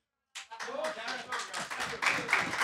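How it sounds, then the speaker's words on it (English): An audience clapping during a talk, a brief burst of many hands applauding that starts abruptly and grows slightly denser, with speech-like sounds mixed in. "Some of you are clapping because you're inspired."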